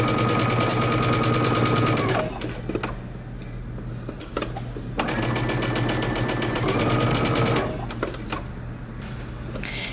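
Sewing machine stitching a bomber jacket sleeve seam with back-stitching, fast mechanical whirring in bursts that stop and restart, close and loud, with no talk.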